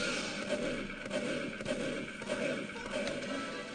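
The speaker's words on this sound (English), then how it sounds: "Why are there sticky bombs down there?" Sticky bombs going off in a video game, heard as a dense, continuous rumble of blasts and thuds at moderate loudness that stays fairly even throughout.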